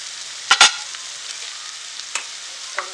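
A spoon stirs dry mini prawns in a hot pan, a steady sizzle broken by a few quick scraping strokes, close and fairly loud with no talk.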